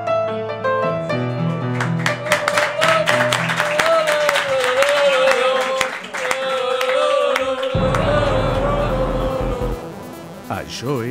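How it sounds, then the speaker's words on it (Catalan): A studio audience at a Catalan comedy show claps after a prize is awarded, a sustained round of applause underneath a music sting and an amplified host's voice, fading out near the end. "Un fort aplaudiment per l'Antoni i per la Neus."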